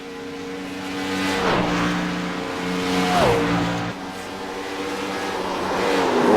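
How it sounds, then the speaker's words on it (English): Race car on its victory lap at Homestead-Miami Speedway, engine droning steadily with repeated rising and falling pitch sweeps as it shifts and passes, loud and fairly close, with crowd and track ambience beneath. "So Marcus Richardson now makes his victory lap around the track."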